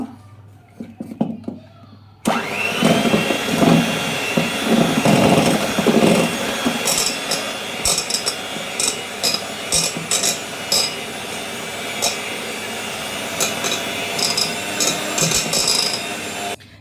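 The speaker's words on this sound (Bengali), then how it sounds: "এখন বিটারের সাহায্যে একদম স্লোভাবে এটাকে একটু মিশিয়ে নিব" An electric hand beater on its lowest speed whirs through chocolate cake batter in a bowl, switching on after a couple of seconds of quiet handling into a steady, close motor drone with occasional clinks against the bowl.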